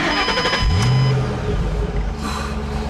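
A 2007 Ford Shelby GT500 convertible's supercharged 5.4-liter V8 roars loudly, revving up sharply once and then settling into a deep, rumbling idle.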